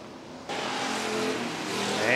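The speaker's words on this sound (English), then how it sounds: "As it come off turn number three now, it will be Bierman into turn number four" Race cars, Bomber and SportMod classes, roar around Worthington Speedway, a loud sustained engine drone rising after a quieter start and building in pitch as the cars pass through the turns.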